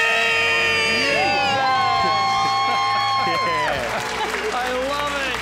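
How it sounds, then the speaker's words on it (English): A crowd at a debt-free celebration screams and cheers together, a loud sustained mass of shouting and whooping voices that swells, holds, then tapers off slightly. "let's hear a Windy City debt-free scream. Make it loud."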